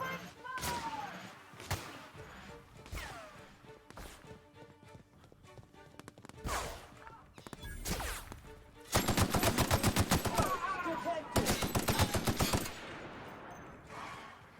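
Rapid bursts of gunfire in a firefight from the sci-fi video game The Outer Worlds, dense automatic volleys loudest in the back half, with shouted voices and other game sounds between the shots.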